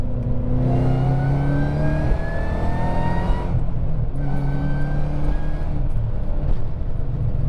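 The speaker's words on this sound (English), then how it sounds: "that blower noise is intoxicating" A Ford Mustang GT500 with 700+ hp accelerates hard, its supercharger blower whining in rising pitch over the engine roar through two loud, close pulls with a brief shift between them.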